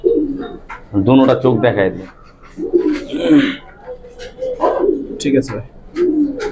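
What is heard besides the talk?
pigeons cooing, Giribaz pigeons shown for sale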